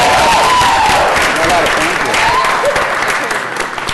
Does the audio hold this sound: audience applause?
yes